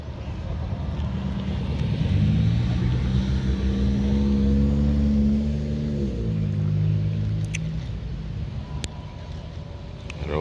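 At a cars-and-coffee meet, an older Porsche 911 engine rumbles close by, rising in pitch as it revs, then settling back to a lower drone, with no one talking over it.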